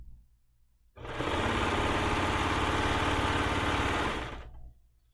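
A serger sews binding onto a quilt, starting abruptly and running as a loud, even, continuous motor whir for about three and a half seconds, then stopping, with a quiet room before and after.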